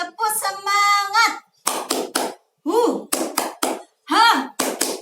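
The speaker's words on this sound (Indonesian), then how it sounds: "Ayo tepuk semangat" Preschool children do a rhythmic spirit clap in short bursts of sharp hand claps, chanting along between the claps, close and loud in a classroom.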